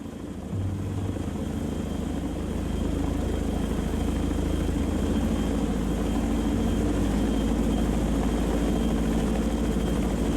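Chinook helicopters in the naval warfare game Sea Power flying en route, a loud continuous rotor and engine drone with low rumbling throb, steady and unbroken throughout, no talk.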